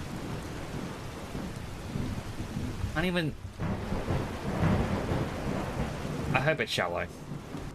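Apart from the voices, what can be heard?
thunderstorm with rain in video game Skyrim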